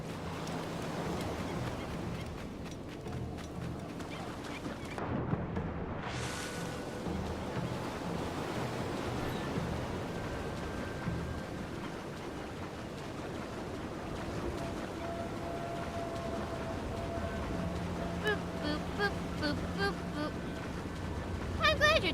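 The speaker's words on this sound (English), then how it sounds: "Ooh, big waves. So these are actually pretty big." Big ocean waves in the video game Assassin's Creed IV: Black Flag surge and wash continuously with windy rushing noise. Faint game sounds and tones drift through, and a voice talks over them now and then.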